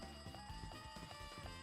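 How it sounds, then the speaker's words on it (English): An alarm clock rings in the Danganronpa 2 video game, a steady repeating electronic beep pattern over sustained game music tones, moderately quiet, with no talk. "It is an alarm, like an alarm clock sound."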